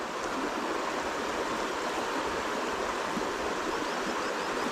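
Fast-flowing river water rushing steadily, a dense broadband hiss of current running over the shallows, even and continuous with no voices.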